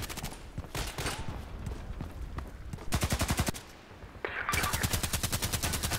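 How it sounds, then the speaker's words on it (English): Rapid automatic gunfire from the online shooter Contract Wars, several sustained bursts of rattling shots, loud and close, with brief pauses between volleys. "Because I heard all this shooting"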